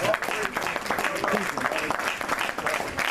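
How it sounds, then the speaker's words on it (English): An audience at a religious teaching session claps in a dense, continuous patter of hands, with voices heard mixed in throughout. "Yeah, clap. You can clap."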